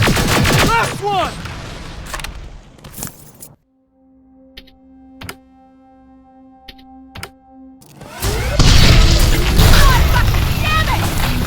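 Gunfire erupts in the shooter Terminator Resistance: bursts of rapid automatic shots and booms at the start, a quiet stretch with tonal hums and scattered thuds, then heavy sustained firing returns loud and close.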